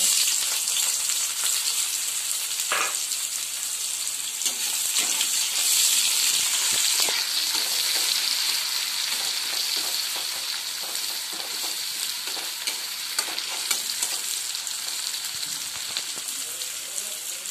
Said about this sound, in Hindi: एबे आम कढ़ई गोटे प्लेट बाहर कर सही कढ़ई रे आम कटा प्याज पकई।